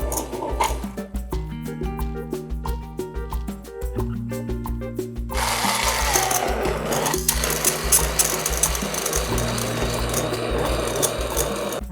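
A blender jar grinds green curry paste for a Thai beef and eggplant curry, its motor whirring in close, pulsing bursts before settling into a louder, rougher, continuous grind.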